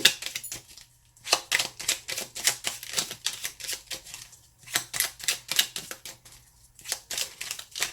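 A tarot deck is shuffled by hand in repeated bursts of rapid, crisp card riffles and flicks separated by short pauses, close and clear with no voices.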